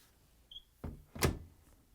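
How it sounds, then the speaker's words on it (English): Frigidaire/Electrolux front-load washing machine door swung shut, giving a soft thud followed by a louder solid latching thunk, close and alone in a quiet room. "Close the door."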